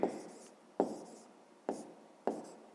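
A pen scratches out an answer on paper during a fifth-grade maths exercise: four short, quiet writing strokes in an irregular rhythm, each starting with a soft tap and fading, with no talking.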